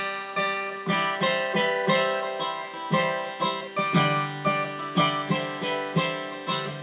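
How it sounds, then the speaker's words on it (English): A sustained organ opens, then a driving electric guitar riff enters with steady rhythmic chugs, full band feel, loud and close, no voices. "It starts out with a nice organ sound."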